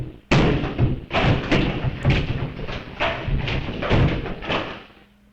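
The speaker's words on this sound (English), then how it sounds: "Alerted by the sound of the wall breaking" A wall being smashed through in a video game: a sudden heavy crash followed by a rapid series of loud thuds and crumbling impacts over several seconds, fading at the end.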